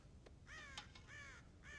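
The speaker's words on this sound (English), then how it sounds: "God damn crows!" Several crows caw in Red Dead Redemption, with harsh repeated calls spread across the moment at moderate loudness over a low rumbling background.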